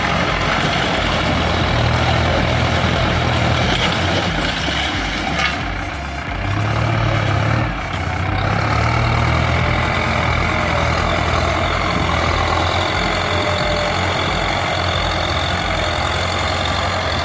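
A Massey Ferguson MF5710 tractor's 4.4-litre four-cylinder turbo diesel engine runs continuously nearby with a deep, steady rumble and broad mechanical roar, briefly dipping once before settling back to a constant drone.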